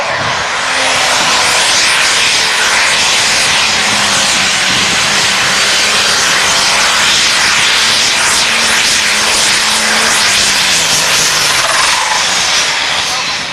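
A pro stock pulling tractor roars loud and sustained down the pull track at a Fort Recovery NTPA Grand National event, its engine drone steady throughout with a slowly shifting pitch and broad roaring noise.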